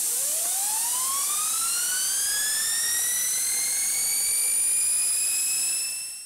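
A 3D-printed air turbine spins up on compressed air from a 2-litre drinks bottle at 80 psi. Its loud, continuous whine rises steadily in pitch for about six seconds and then starts to fade, with no voices.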